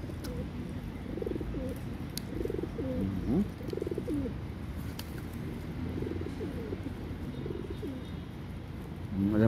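Pet pigeons coo steadily in a park, a continuous low murmur of overlapping calls close by, with occasional chirps and faint background noise.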